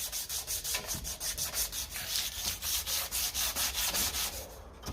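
Rust and spot-weld marks being roughed up on the exhaust heat shield of a 1954 Ferguson TEF 20 diesel tractor: loud, close, rhythmic back-and-forth abrasive strokes repeating steadily, with no voices.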